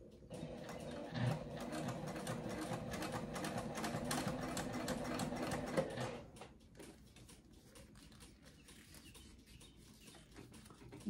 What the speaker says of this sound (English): I'm going with this foot.